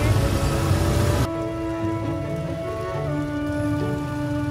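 Heavy rain pours down steadily in Peshawar, Pakistan, a loud continuous hiss of drops that drops slightly in level partway through.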